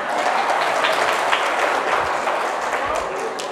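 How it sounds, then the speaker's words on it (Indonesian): Crowd applause at an outdoor Islamic tabligh akbar religious gathering in a village in Indragiri Hulu, a steady dense clapping wash sustained throughout, loud and continuous without a break. "Tepuk tangan lah."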